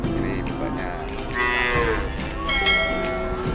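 Cattle at a village cattle market lowing loudly nearby, one long drawn-out moo rising in the middle over a busy background of other livestock and market noise.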